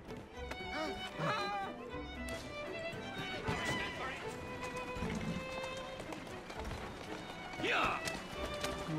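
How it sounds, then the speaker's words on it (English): A horse whinnies amid the clip-clop of galloping hooves in the video game Assassin's Creed Syndicate, with background game sounds and a voice talking over it. "I think I'm just gonna steal this horse."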